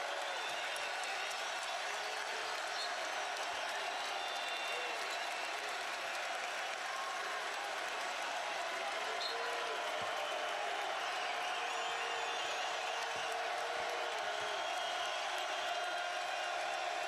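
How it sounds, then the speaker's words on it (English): A large basketball arena crowd at a Tennessee vs Arkansas college game roars and applauds continuously, a dense, steady wash of cheering heard from a distance with no breaks. "And the crowd is back into it."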